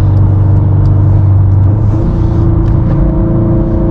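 A Subaru STI with an FP Blue turbo running on E85 drones and revs loudly from inside the cabin, a steady engine rumble that rises slightly in pitch partway through.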